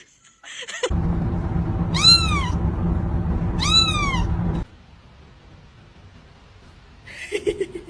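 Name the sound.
cat meowing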